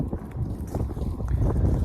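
Wind at Gölköy, Turkey, buffets the microphone with a low, rumbling, gusty roar that swells slightly over a couple of seconds.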